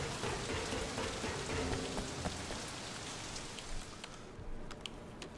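Steady rain pours across the scene in the open-world action game Sleeping Dogs, a dense, continuous hiss of drops spattering on surfaces, close and even throughout with a few sharper drips near the end.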